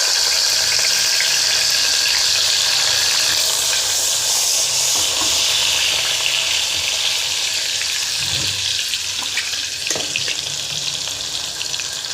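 Onions sizzle steadily in hot oil in a pan, a loud, close, continuous frying hiss with occasional soft scrapes and knocks from stirring, no voices.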